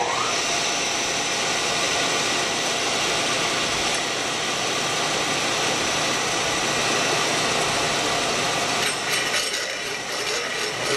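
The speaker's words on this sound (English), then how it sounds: "Got the hole saw chucked up, got some cutting oil on there, got the milling machine back gears in, and the lowest speed." Milling machine in back gear at lowest speed drilling with a hole saw and cutting oil, a continuous dense grinding, scraping buzz at close range, steady throughout with slight variation near the end.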